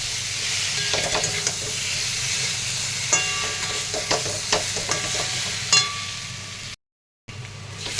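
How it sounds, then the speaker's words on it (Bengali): Parboiled potatoes tossed with salt, turmeric and spices in a hot pan, a continuous soft sizzle and hiss under intermittent scraping stirs and clinks, with no voices and a brief dropout near the end. "আলু দিয়ে ভালো করে মশলা দিয়ে আরেকটু কষিয়ে নেব"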